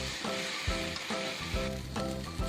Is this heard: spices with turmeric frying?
yes